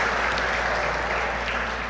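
A church congregation at a family worship service claps steadily in a thick, even wash of applause, fairly loud and without pause.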